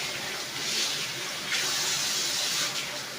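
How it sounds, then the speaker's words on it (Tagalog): Cross stitch pieces being rinsed under a running tap, a steady close hiss of flowing water splashing into a sink with slight surges, no talking. "Ayan, babandawan na natin."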